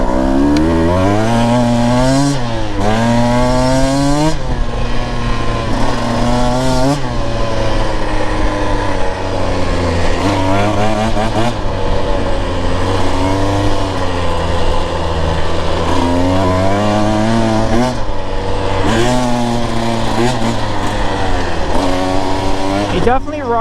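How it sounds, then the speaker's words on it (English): Husqvarna TE 150 TBI dirt bike engine lugging low in third gear, a loud continuous drone with wavering pitch and slow rises in revs throughout, close to the rider's microphone. "Really lugging it low here."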